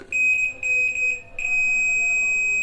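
A multimeter in continuity mode gives a loud, steady high beep when its probes touch a resistor in the RAM section of a desktop motherboard, breaking off briefly twice before holding on.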